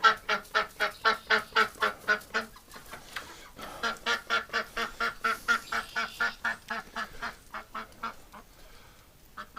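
A female duck, upset and possessive near her nest in a barn, gives a long run of loud, rhythmic honking quacks in steady bursts, with a brief pause before the calling resumes just as strongly.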